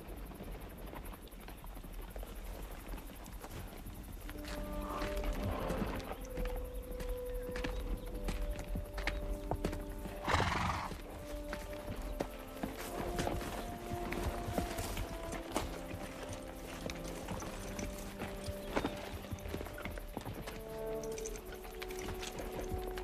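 Horses clip-clop on the ground in a period film scene, hooves tapping in irregular rhythm beneath a busy bed of ambient noise, with an occasional faint whinny and brief bursts of activity.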